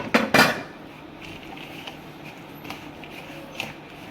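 A metal spoon clanks twice against a pan while almonds and cashews are stirred into khoya for a milk and rice flour sweet, followed by faint, soft scraping and occasional light taps.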